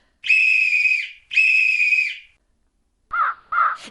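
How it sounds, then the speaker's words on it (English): Two long, shrill blasts of a silver whistle sound one after another, followed by a pair of short, harsh caws from crows. "she blew her silver whistle twice"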